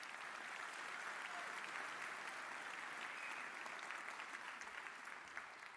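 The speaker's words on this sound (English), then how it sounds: "so a huge round of applause for them" Sustained, dense audience applause at the Kawaiicon conference closing, a continuous wash of clapping at a steady level that tapers slightly at the very end.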